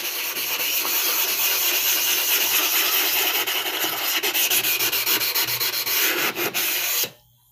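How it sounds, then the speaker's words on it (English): A diamond-impregnated steel plate rubbed back and forth over a sharpening stone to flatten and clean it, a loud continuous gritty scraping close up with quickening strokes near the end before stopping abruptly. "steel plate that's been impregnated with diamonds. And it does a fine job at leveling and cleaning and flattening the stones."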